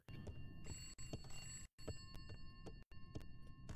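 A telephone rings inside a horror video game, its bright electronic trill repeating in short bursts with brief silent gaps, heard alone and fairly close.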